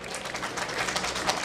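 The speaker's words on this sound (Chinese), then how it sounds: "给自己一个热烈的掌声" Students at a school's 100th anniversary celebration clap together, a brief burst of dense applause at moderate volume with a faint murmur from the crowd.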